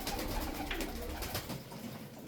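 Pigeons coo softly and repeatedly in a dim, busy space, their low throaty calls overlapping against a faint background rustle.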